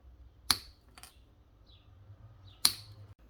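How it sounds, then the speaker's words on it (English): Two sharp wire-cutter snips cutting wire ends off connectors during an HID bulb kit install on a 2010 Volkswagen Jetta 2.5L, crisp close clicks about two seconds apart over a quiet background. "Now cut the ends off as close to the connector as you can"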